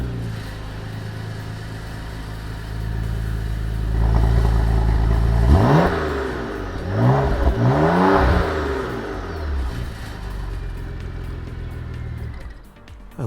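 The 3.6 litre twin-turbo V6 of a Porsche Macan Turbo idles, then revs sharply three times in quick bursts before dropping back to a low idle, loud and close with no speech.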